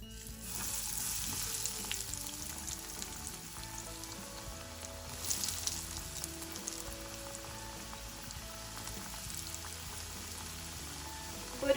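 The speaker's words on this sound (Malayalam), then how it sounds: "ഇനി ഇത് നമുക്ക് കുറച്ച് കുറച്ചായിട്ട് ഫ്രൈ ചെയ്തെടുക്കാം." Potato kurkure pieces fry in hot oil, giving a dense, steady sizzle and crackle close by, continuous and moderately loud with no talking.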